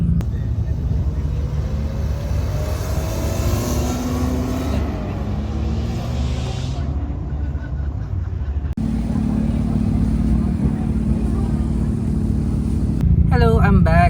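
A Mazda RX-8 rotary engine revs hard on a 2025 autocross run, a loud steady near drone with rising and falling pitch through gear changes, continuous wind and road rumble, a brief voice now and then underneath.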